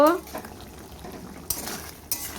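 A spoon scrapes and clinks against a pan while a vegetable and spice mix is stir-fried, with two sharper metallic knocks standing out over a low background hiss.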